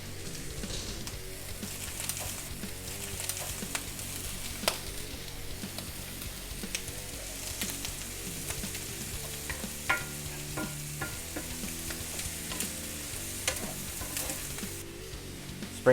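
Brussels sprouts frying in butter in a pan while being stirred, giving a steady close sizzle with constant scraping and clattering of the spoon against the pan; no one speaks.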